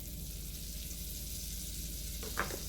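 Margarine sizzles in a hot wok during fried rice prep, a steady soft hiss running throughout with a brief clink or scrape near the end.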